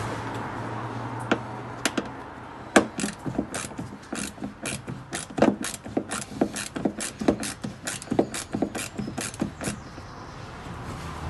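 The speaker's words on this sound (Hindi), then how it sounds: "इसको भी मुझे स्क्रू ड्राइवर डाल के फिर ही उतारना पड़ेगा।" A screwdriver works a stubborn T30 screw out of an Audi A4 B8 facelift parking sensor, giving a run of close, sharp ratcheting clicks and metallic creaks in an irregular rhythm, with no talk.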